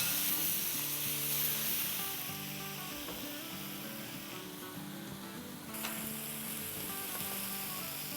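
Chicken frying in a karahi for butter chicken karahi, a broad steady sizzle with a brief surge as the pieces are turned, close and continuous, with faint background music and no talk.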